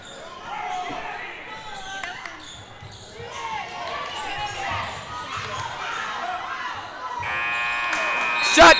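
A buzzer sounds near the end of a varsity girls' basketball game, a sustained electronic tone cutting over steady crowd noise and sneaker activity in the gym while an announcer talks throughout.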